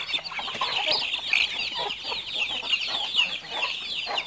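A flock of farmyard chickens clucks busily while feeding, with chicks among them, producing a steady chatter of close, overlapping clucks and peeps of moderate loudness.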